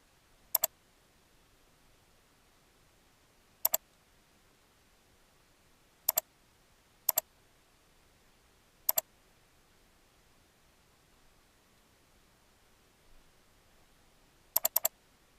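Computer keyboard or mouse clicks, a handful of sharp isolated double-clicks spread far apart across a quiet background.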